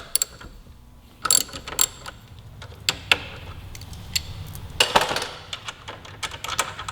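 A ratchet wrench removes the brake calipers from a 2018 Suzuki GSX-R1000 sportbike, giving scattered bursts of sharp ratcheting clicks, some close and loud, with quieter mechanical rattles between them.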